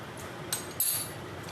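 A metal tasting spoon clinks twice against a dish of stuffed bell peppers with cashew cream, two bright close taps in quick succession over faint room hum.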